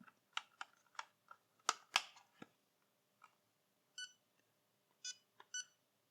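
A restored handheld casino slot game gives off close, quiet electronic beeps and clicks, a quick cluster of button taps and chirps followed by a few spaced-out beeps.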